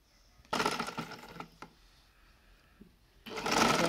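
A sewing machine stitches a kurti neckline in short close bursts, a whirring run, a pause with small clicks, then another run starting near the end.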